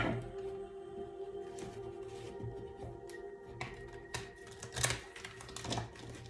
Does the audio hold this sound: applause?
no